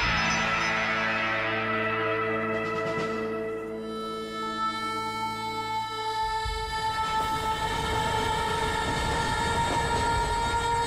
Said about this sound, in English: Look at that train in the background